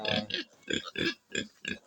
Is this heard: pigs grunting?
yes